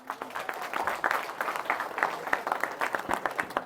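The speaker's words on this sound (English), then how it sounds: "Can I have a round of applause for yourself?" A small audience at a tech seminar held at SRM Institute of Science and Technology in Chennai gives modest applause, light scattered claps rising and falling, fairly close, for a few seconds.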